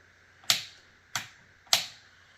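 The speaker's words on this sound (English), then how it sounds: "it's got a good clicking sound" Metal toggle switch on a Proyama 62cc PCS62 chainsaw, flicked three times: crisp, close, isolated clicks about half a second apart, each with a short decay, over a quiet background.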